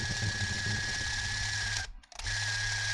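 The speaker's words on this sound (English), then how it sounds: "When I start shooting, it makes a horrible screeching sound like this." A UMIG Mini 5 film camera screeches while shooting: a steady, harsh mechanical whine with a high, piercing tone runs close and continuous, cuts out for a moment, then starts again.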